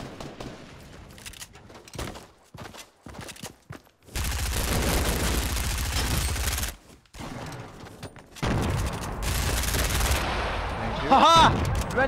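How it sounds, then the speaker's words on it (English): Bursts of automatic gunfire in the Fortnite battle royale game on Nintendo Switch, loud dense volleys in two long stretches with shorter shots between, a brief gap, and a sharp louder shot near the end. "What is this trashy shooting right here?"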